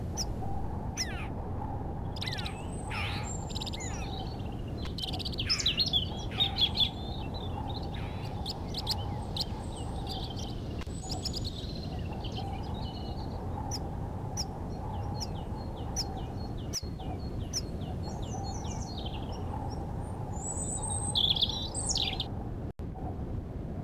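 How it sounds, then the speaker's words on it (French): A brambling calls on Ouessant island. Short, bright chirps repeat at irregular intervals over a steady, even background hiss, with the bird fairly close and clear. "Le pinson du Nord."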